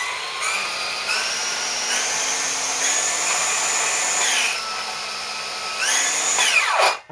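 A Bosch GKS18V-25GCN 7 1/4 inch brushless cordless circular saw runs unloaded in eco mode, its whine stepping through several speed changes before the electric brake pulls the pitch sharply down to a quick stop at the end.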